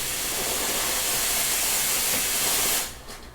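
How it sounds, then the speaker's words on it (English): The steam wand of a Nuova Simonelli Oscar II espresso machine blasts a loud, steady hiss at close range, then drops off abruptly near the end as the steam is cut. "A great pro tip about the steam wand is it is very fast and very powerful"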